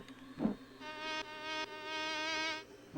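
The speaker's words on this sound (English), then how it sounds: "Oh look, these are the buzzy bees." Buzzing insect enemies, bees or dragonflies, in the Zelda's Adventure video game make a steady, harmonic-rich drone that swells in and out over a few seconds, with a brief thud near the start.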